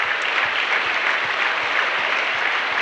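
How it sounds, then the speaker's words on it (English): Steady applause from an audience in a school gym during an alumni introduction at a high school basketball game, dense continuous clapping throughout without pause. "Please give these people a round of applause."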